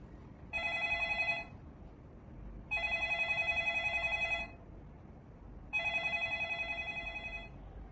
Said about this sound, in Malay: Sebagai contoh iaitu bunyi telefon.